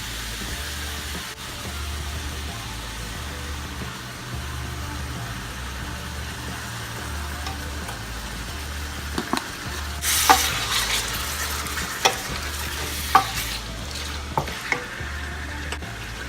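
Palm oil (red oil) heating in a pan for stir-fried pumpkin with vegetables, a faint constant sizzle over a low droning hum, later punctuated by scattered sharp clicks and brief scrapes.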